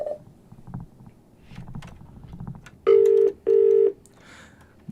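Two loud, steady telephone rings, each under a second with a short gap between, on a radio phone-in line, following some quiet low rumbling and shuffling.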